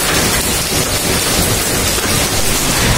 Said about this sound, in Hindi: अभी बहुत तेज़ बारिश हो रही, बहुत तेज़ बारिश हो रही